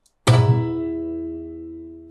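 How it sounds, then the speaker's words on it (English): A sitar drone rings out after a short silence, a sharp plucked attack blooming into a rich, sustained buzzing tone with layered harmonics that slowly fades over about two seconds, heard alone. "So this one is a sitar drone sound."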